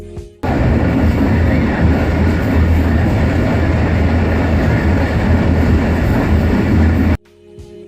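A Pakistani train, the Millat Express led by an HGMU-30 locomotive, roars past close by at Dhabeji station without stopping, a loud steady rumble with rhythmic wheel clatter lasting several seconds before cutting off abruptly.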